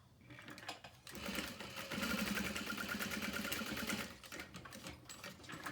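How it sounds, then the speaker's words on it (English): A sewing machine runs a straight seam across two pieces of fabric placed right sides together, using a very small stitch length. It makes a steady, close mechanical whir for a few seconds, with quieter handling sounds before and after. "We're just going to sew straight across."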